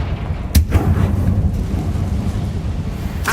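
A Confringo blasting curse in the video game Hogwarts Legacy goes off as a sharp, loud blast followed by a rumbling low boom, with a second crack near the end.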